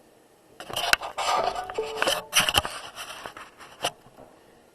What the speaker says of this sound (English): So now we're going to color in our body parts of our dinosaur.